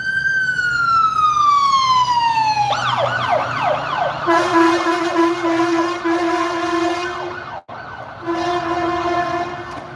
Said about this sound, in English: There's some other sirens not coming for me.